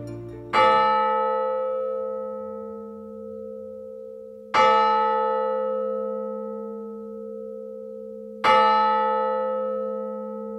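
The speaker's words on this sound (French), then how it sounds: "je suis allé à Narbonne et j'ai enregistré cette cloche en sol" Church bell tuned to G, recorded in Narbonne, struck three times at even intervals of about four seconds, each strike ringing out clear and loud with a long, slowly fading hum, nothing else audible.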